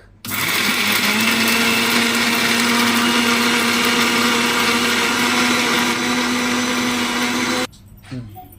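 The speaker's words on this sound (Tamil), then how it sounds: "இப்போ நம்ம மிக்சியில் போட்டு நம்ம அரைச்சி எடுத்துக்கலாம்" A mixer grinder whirs loudly and steadily while grinding chana dal and urad dal chutney, a constant high motor drone that holds for several seconds before cutting off abruptly, followed by a short rattle.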